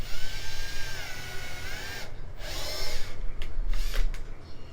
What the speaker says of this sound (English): Make sure your drill bit is long enough.